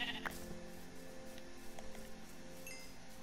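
A sheep bleating in Minecraft, a short faint call early on over a steady background hum, followed by a few soft clicks, with no one talking.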